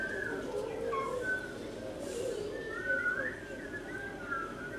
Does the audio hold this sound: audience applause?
no